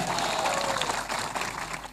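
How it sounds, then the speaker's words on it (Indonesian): Church congregation clapping during a sermon, a short burst of fairly loud mixed applause with a few sharper claps, trailing off near the end. "Tepuk tangan ke ibu-ibu dulu."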